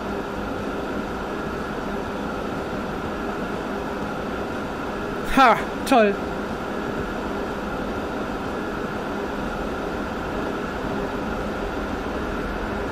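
In the video game Transport Fever 2, a train rushes straight through a station without stopping, producing a steady whooshing rumble that runs the whole time, while a man briefly exclaims midway.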